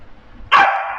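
A dog, likely a corgi, lets out a single sharp bark indoors, close and loud after a brief quiet moment.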